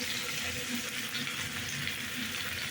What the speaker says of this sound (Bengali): কড়াইয়ে ফোড়নে দিলাম শুকনো লঙ্কা, তেজপাতা আর গোটা জিরে